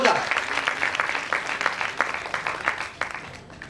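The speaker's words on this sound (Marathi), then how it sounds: "जरा जोरदार टाळ्या वाजवा." A New Year celebration crowd claps loudly and steadily, a dense wash of overlapping hand claps that holds strong for several seconds before easing slightly toward the end, with no talking over it.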